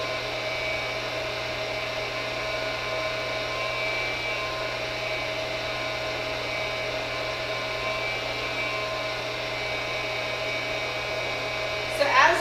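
A coffee roasting machine runs with beans drying in the heat, giving a steady whirring hum and airy rush throughout, with a short rattle near the end.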